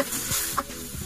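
Blended spice paste hits shallots frying in a wok for Acehnese stir-fried anchovies, giving a brief close sizzle with a stirring scrape partway through, no voices.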